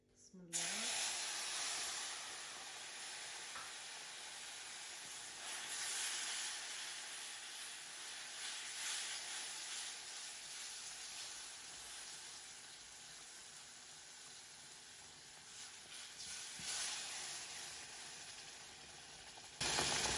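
Cup of water poured into melted sugar in a hot pan, hissing and sizzling loudly and steadily for the whole stretch, with a sharp onset at the pour and a brief surge near the end.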